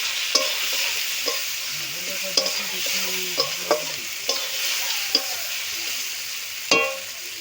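Spoon stirring salt and turmeric powder in a frying pan for a prawn and jackfruit curry: a steady fry sizzle runs throughout, with sharp scraping strokes repeating about once a second, close and fairly loud.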